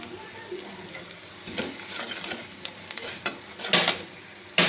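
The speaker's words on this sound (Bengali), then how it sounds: "মশলাটা আমার ভাজা হয়ে গিয়েছে।" Onion and ground turmeric, chili, cumin and coriander fry in a pan for a soya chilli dish, with soft sizzling under scraping spatula strokes that build toward a louder cluster near the end.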